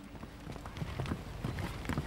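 Horses' hooves clip-clop in an uneven, rhythmic patter of soft thuds, fairly faint and mixed with a low background wash.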